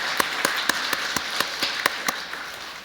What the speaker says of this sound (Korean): 두 분 박수로 격려해 주시기 바랍니다